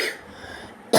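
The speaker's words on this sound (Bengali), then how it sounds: "খুব কাশিও হচ্ছে, কাশিটা কমেনি এখনো।" A single sharp cough from a woman with a lingering cough, close and sudden at the very end after a moment of quiet room tone.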